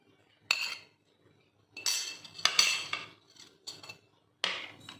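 Spoon scraping and clinking against a bowl while samosa filling is stirred together, in several short bursts separated by pauses, close and moderately loud.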